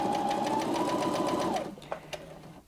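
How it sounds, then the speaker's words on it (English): Brother Innov-is 15 sewing machine stitching backwards in a steady mechanical whir that winds down and stops, followed by a couple of faint clicks. "hold this button down and the machine will sew backwards"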